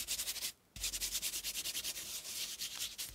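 Ink rubbed and smoothed across teabag paper in steady back-and-forth strokes, a close, continuous scratchy swishing with one brief pause near the start.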